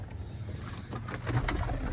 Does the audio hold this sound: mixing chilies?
no